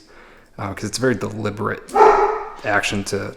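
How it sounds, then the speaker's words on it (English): A dog barks repeatedly in the background, loud bursts with a whimpering note, mixed under someone talking close up. "sorry about the dog in the background."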